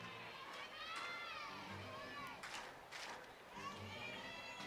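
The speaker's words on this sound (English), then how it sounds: "Good crowd on hand." Crowd at a college softball stadium during a Florida versus Alabama game, a steady dense murmur of many voices with scattered children's shouts and cheers, close and continuous throughout.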